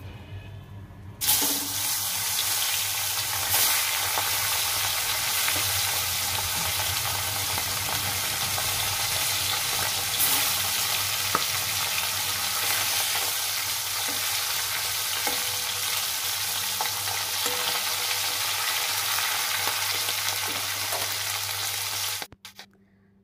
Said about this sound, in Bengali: চলো মাছটা চটপট করে ভেজে নিই।